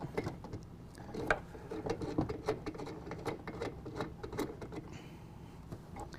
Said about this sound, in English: to adjust our clamp, what I'm going to do is loosen up the nut on the back and then unthread this bolt